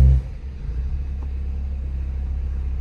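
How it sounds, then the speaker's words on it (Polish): Ford Fiesta with a CVT gearbox, accelerator floored on an uphill start, giving a steady low engine rumble and drone that holds without climbing, close and fairly loud. "Wciskam gaz w podłogę."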